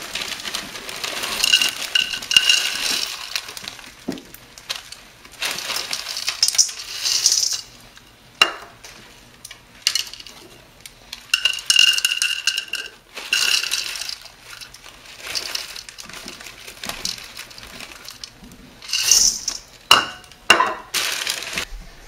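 Dry rustling and crinkling of a cereal bag and box as toasted wheat Chex cereal is taken out of a brand new box, with scattered small pieces rattling and tumbling in bursts, close and fairly loud.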